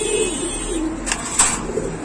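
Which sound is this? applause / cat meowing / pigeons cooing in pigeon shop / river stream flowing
pigeons cooing in pigeon shop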